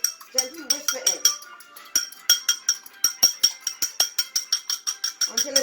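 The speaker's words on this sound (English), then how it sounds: "you just gently whisk the egg" An egg is whisked in a bowl with a quick, steady run of close, bright clinks as the whisk strikes the sides, continuing throughout with a short voice heard near the start and end.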